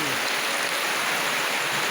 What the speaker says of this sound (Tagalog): grabing ulan ngayon. Lakas ng ulan